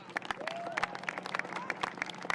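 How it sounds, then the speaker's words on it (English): Applause from a crowd, with dense clapping spread across the whole stretch and a few sharper claps standing out. "Let's give them another round of applause."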